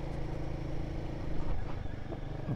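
Royal Enfield Guerrilla 450 motorcycle engine holding steady at about 3,500 rpm in fourth gear, a close, continuous low throbbing drone under heavy wind rush, with no talk over it.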